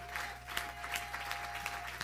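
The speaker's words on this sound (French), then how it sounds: "Est-ce que nous pouvons lui donner une bonne main d'acclamation?" Church congregation applauds after a prayer sermon, a soft, fairly faint patter of many hands with a few sharper claps, over a low electrical hum.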